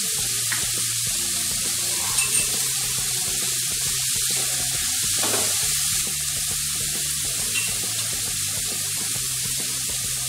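Mixed vegetables frying in butter on a hot tawa for pulao give a constant loud, even sizzle with faint stirring scrapes, close up and uninterrupted, with no voices.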